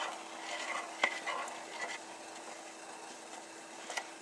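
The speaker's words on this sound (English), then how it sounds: "I'm just rubbing it up against the side of the bowl to try and break up those clumps of powdered" A tablespoon rubs and scrapes against the side of a bowl, breaking up clumps of powdered milk, with soft, close, irregular scraping strokes and a few sharper clicks.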